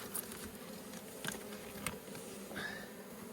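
Honeybees in a hive buzz in a dense, continuous hum during a late winter top inspection, close and steady with a few brief knocks and rustles.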